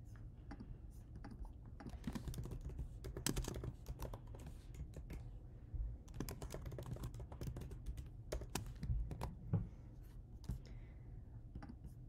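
Steady clicking of a computer keyboard as code is typed, a continuous close patter of keystrokes with brief irregular pauses and no speech over it.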